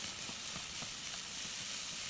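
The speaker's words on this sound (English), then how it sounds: "add the cleaned bean sprouts and stir-fry quickly over high heat. You'll hear them sizzle in the pan" Bean sprouts being stir-fried quickly in hot oil in a pan over high heat give a continuous, even sizzling hiss with faint stirring taps mixed in.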